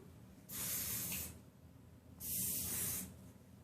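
Two separate hissing bursts from an aerosol hair spray can, each lasting under a second, with a short quiet pause between them.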